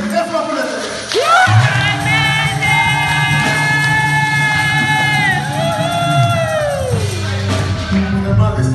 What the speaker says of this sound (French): Vous devez crier très fort pour le Seigneur.